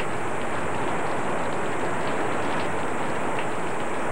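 Heavy rain pours down in a dense, constant roar that holds at an even loudness throughout, with no voices present.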